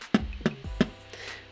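A voice mimics a bass drum with three punchy, low beatbox thumps spaced evenly about a third of a second apart, close and fairly quiet, then a softer tail fading out.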